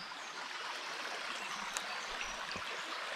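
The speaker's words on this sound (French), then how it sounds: "c'est un petit ruisseau" A small stream trickles softly and steadily inside an abandoned abbey, a faint continuous wash of water with no voices.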